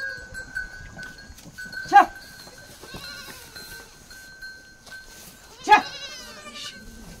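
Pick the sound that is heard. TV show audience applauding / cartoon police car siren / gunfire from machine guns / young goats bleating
young goats bleating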